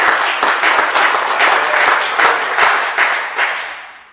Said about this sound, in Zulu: Ngiyacela naye simshayele ihlombe